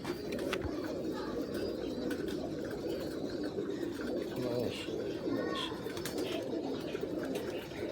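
Missay breed pigeons coo in low, soft bursts throughout, layered over steady background chatter and a faint birdy twitter.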